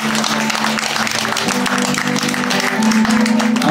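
Audience applause at a live concert, a dense steady wash of clapping that grows slightly louder toward the end, with a sustained musical tone beneath it.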